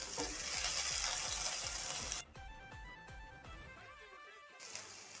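Chopped garlic, ginger and green chilli fry in hot oil while being stirred, making a steady loud sizzle with rhythmic scraping strokes that then drops to a softer, quieter sizzle.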